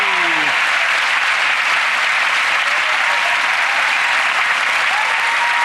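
A television studio audience at a magic show gives loud, sustained applause, a dense, even roar of clapping throughout, with a brief voice at the very start.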